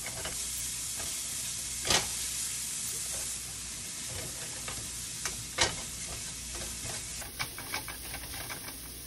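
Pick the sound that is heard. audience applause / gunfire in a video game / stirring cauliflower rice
stirring cauliflower rice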